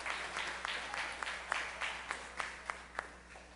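Applause from an audience at a discipleship course class, with scattered claps fading to a few separate, sharper hand claps at an uneven rhythm near the end, nobody speaking.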